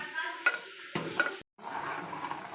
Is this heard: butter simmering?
yes